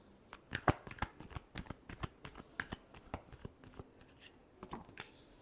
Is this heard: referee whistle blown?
no